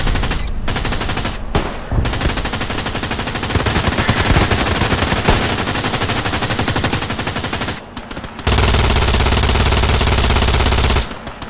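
An MG42 machine gun rattles in long, loud, rapid bursts in the Hell Let Loose video game, firing almost continuously from a bunker with brief pauses between strings of shots.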